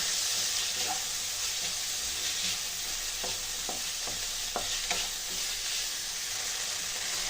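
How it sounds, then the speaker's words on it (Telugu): Soaked sago and carrot cook in a pan for payasam, giving a continuous broad sizzling hiss. Several quick scraping strokes from stirring come close together near the middle, with no talking. "ఈ సగ్గుబియ్యంని కూడా బాగా కలుపుకొని కొంచెం కుక్ చేసుకుందామండి"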